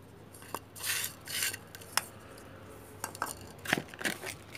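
Potting soil is being stirred together with fertilizer and dry tea leaves, giving quiet, intermittent gritty scrapes and rustles in uneven bursts with near silence between them.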